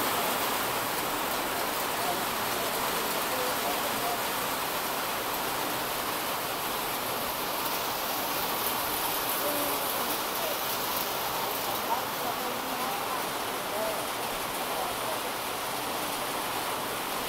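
Steady rain falls at a temple, a dense unbroken hiss that holds at an even level throughout.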